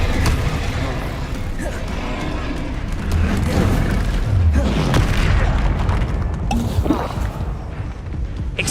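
Incendio fire spell cast in the video game Hogwarts Legacy, a loud, dense rushing blaze with deep booming bursts that roll on without a break for several seconds, with faint voice-like sounds mixed in.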